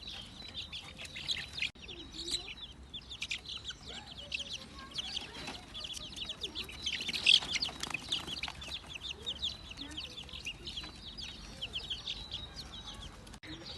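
Many chicks peeping continuously in a busy, high-pitched chorus, close and steady, with scattered soft rustling underneath, as a five-month-old German Shepherd meets them.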